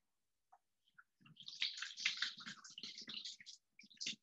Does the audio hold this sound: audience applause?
no